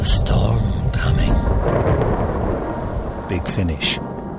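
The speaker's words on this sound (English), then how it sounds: "Looks like there's a storm coming." Thunderstorm rumbling with rain in a Doctor Who audio drama, a loud continuous roll of thunder with sharper cracks near the start and end, under a background of dramatic sound.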